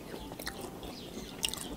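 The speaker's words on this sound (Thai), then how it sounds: "รสชาตินัวๆกลิ่นคล้ายๆแหนมแล้วก็จะมีความกรุบกรุบกรุบ" Someone bites and chews a crunchy fermented Thai food with a tangy sour taste, close wet crunches and mouth sounds in an uneven rhythm, no speech.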